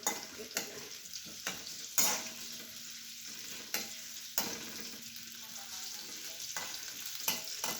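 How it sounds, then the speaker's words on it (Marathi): Chopped onion fries in a pan while being stirred, a steady close sizzle broken by sharp scraping strokes of the spoon every second or so, with no talking. "हे कांदा फिरून घेते आता."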